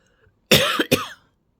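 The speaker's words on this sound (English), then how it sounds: "I have to cough now" A single close cough in two quick bursts, loud and abrupt, with near silence before and after.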